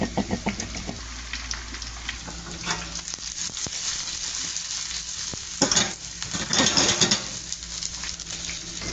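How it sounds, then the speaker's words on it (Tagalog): Chicken pieces crackle and sizzle in hot oil during a second frying, a dense steady hiss with bursts of popping and spatter, close and unbroken, no one talking. "Double fry natin guys."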